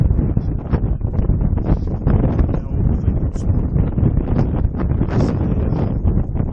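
Strong wind blowing across an exposed, chilly hillside, buffeting the microphone in a loud, continuous roar with gusty rustling and no pauses.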